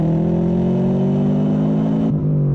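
A Toyota AE86 fitted with a turbocharged Honda K20 engine and exhaust holds a steady, buzzing rev that shifts pitch slightly near the end, close and loud with no talk.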